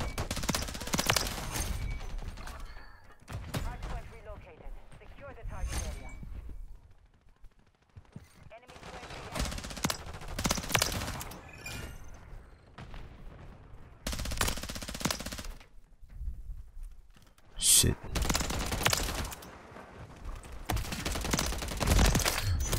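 Bursts of automatic gunfire in Modern Warfare 3, coming in several loud volleys separated by short quieter gaps, with some talk in the background.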